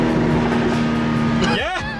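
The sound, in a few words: BMW 340i M Sport with MST intake, turbo swoosh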